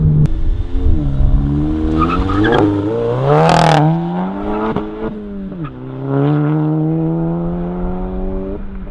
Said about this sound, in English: the car does extremely well when it comes to launching